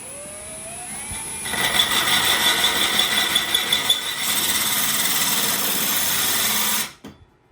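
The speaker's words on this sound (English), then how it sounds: "So now my drill bit isn't going to slide all over the place, it can slide right in" A power drill whirs steadily at high pitch for several seconds, biting into a hard glazed surface, then winds down and stops.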